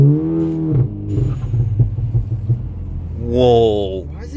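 Volkswagen Golf GTI MK7.5 with an EQT tune pulling hard: engine note climbs, drops at a quick gearshift around the middle, then rises again. The engine is heard from inside the car with talk over parts of it.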